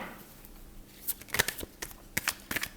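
Tarot cards being shuffled by hand in short riffling bursts, several quick crisp flurries close to the microphone against a quiet background.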